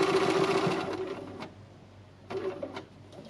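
A sewing machine stitches around the outside of a fabric book cover, giving a dense rapid whir for over a second that fades. It is followed by quieter pauses and a short burst of stitching, close by and with no voices.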